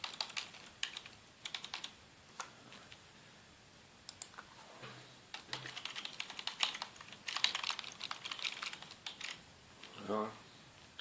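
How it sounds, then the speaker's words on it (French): Rapid, uneven clicking from a computer keyboard being typed on, in bursts and short pauses across the whole stretch, fairly close and moderately quiet, with faint speech now and then. "Le clavier."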